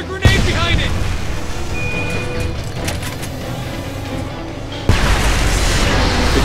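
Grenade blast in the Homefront war shooter, a sharp boom at the start and another burst near the end over a dense bed of gunfire and combat noise, with voices talking throughout.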